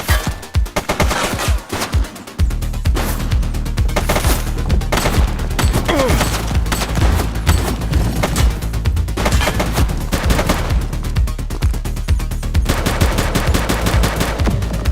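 Sustained gunfire crackles through a police shootout in the game The Precinct, loud and dense with rapid automatic bursts and overlapping shots that barely pause over nearly fifteen seconds.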